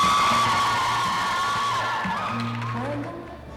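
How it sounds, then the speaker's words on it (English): Crowd whooping and cheering for drag queens at a Pride drag show at NAIT, high shouts and yells over a steady roar that gradually quiets. "The crowd goes wild for the Queens"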